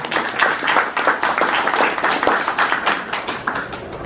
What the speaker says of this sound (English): Well, we'll clap for it.